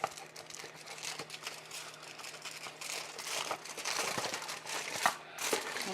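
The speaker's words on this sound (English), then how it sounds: "let's go ahead and cover it with some aluminum foil" Aluminum foil crinkles and crumples close by as it is pressed over a dish, irregular crackling rustles continuing for several seconds with small sharp crunches.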